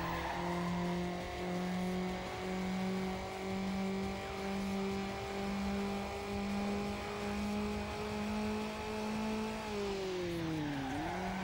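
Race cars and traffic in the video game Need for Speed Underground, a steady droning engine whine with a sustained pitch that dips sharply near the end as the car brakes or turns, fairly faint and without speech.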